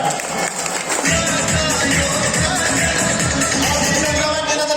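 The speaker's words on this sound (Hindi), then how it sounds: "मैं इसको फिर जोरदार तालियां बजाना चाहिए जोरदार" Loud applause from a large audience at a wife recognition ceremony, dense sustained clapping that starts after a brief quieter moment and continues steadily to the end.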